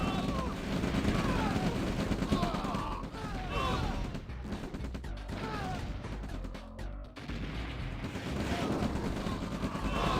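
Artillery fire in a real-time strategy video game comes as repeated booming impacts and crashing blasts in rapid bursts, with a commentator talking over the action throughout.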